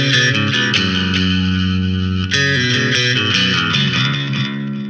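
Bass played through a small, cheap bass amp's built-in echo effect, thick distorted notes ringing with repeating echoes and a long reverberant tail, loud and alone.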